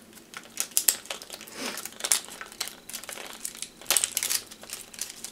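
Crinkly wrapping on a Glossy Box beauty box is torn open in a string of close, sharp crackling and rustling bursts, with no talk.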